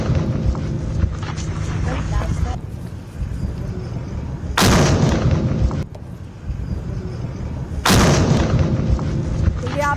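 Two loud broadband blasts from a captured Pakistani drone being destroyed in a controlled detonation, each a sharp boom with a rumbling tail, spaced about three seconds apart over steady background noise and murmuring voices.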